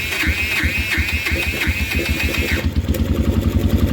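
A 250cc Kymco Mongoose quad engine cranks and catches, then settles into a loud, close, pulsing idle with a rough chugging rhythm.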